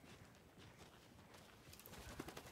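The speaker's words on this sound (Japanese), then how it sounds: "鳥の音。" Faint bird calls, soft coo-like notes, sound over a quiet outdoor ambience in the horror video game Alan Wake 2. They are distant and brief, with no speech.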